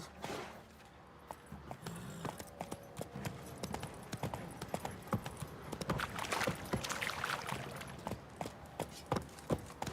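Horse hooves clip-clop steadily in The Witcher 3, a close, rhythmic trot of distinct strikes running throughout with no talk.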